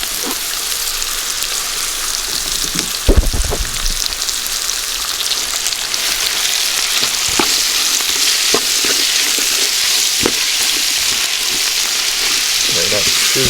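Curry chicken with scotch bonnet pepper sizzles and fries steadily in a pot outdoors, a dense continuous hiss with occasional sharper pops and a brief stirring clatter.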